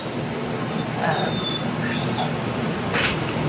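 A puppy under six months old whimpers with thin, high whines over a steady background hiss, close by and fairly faint.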